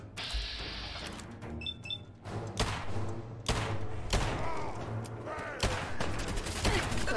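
Gunfire in the video game Fallout 4, several loud sharp shots and impacts in quick succession with clanking mechanisms, mixed with game sounds and occasional faint voice.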